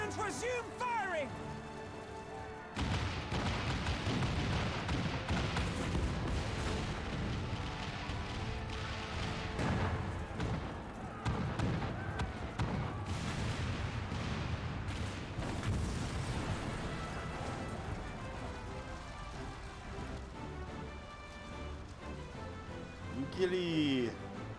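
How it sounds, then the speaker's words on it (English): Cannons fire in battle in the video game Final Fantasy XIV, heard as repeated heavy booms and explosive crackle inside a dense, loud wash of combat noise and music, with voices talking over it. "All cannons resume firing!"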